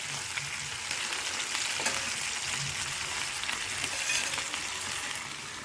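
Fish sizzles steadily in a frying pan for a Telugu-style fish fry, a continuous close, moderately loud hiss with faint crackles throughout and no talking.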